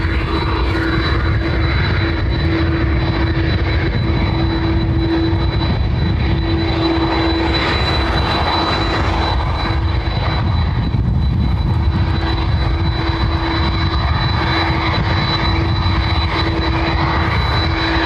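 A Ryanair jet arriving on runway 10R at Dublin Airport gives off a continuous, loud engine roar with a steady whine, heard without any voices.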